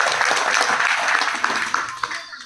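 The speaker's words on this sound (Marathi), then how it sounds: "जोरात एकदा टाळी वाजवा" An audience clapping together to welcome a guest at a gathering of the Dindi 43 pilgrimage group in Pune, a fairly close, busy patter of many hands that gradually thins out toward the end.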